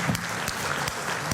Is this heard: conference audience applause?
yes